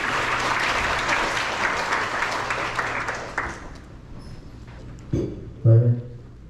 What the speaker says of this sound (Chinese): 请大家掌声欢迎